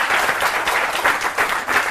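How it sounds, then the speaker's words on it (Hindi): An audience bursts into dense, enthusiastic clapping at a New Year poetry gathering. It runs loud and continuous for about two seconds, with no voices over it. "बहुत सुंदर, जोरदार तालियां।"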